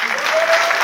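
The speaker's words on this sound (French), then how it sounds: "Applaudissez les Français pour voir ce soir, qui sont là." Audience applause at a French stand-up comedy show, a dense, steady wash of clapping filling the room for under a second, loud and close.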